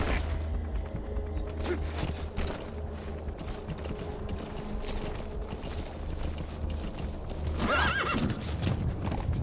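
A video game horse whinnies and snorts over steady galloping hooves, with mechanical rattling and clicking underneath, all loud and continuous.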